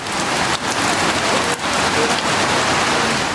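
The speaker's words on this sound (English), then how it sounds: "This video of a patient on admission being lashed by the rains" Heavy rain pours steadily onto a hospital patient being admitted at a Ghanaian municipal hospital, a dense, close, continuous hiss with a couple of brief louder gusts and no voices.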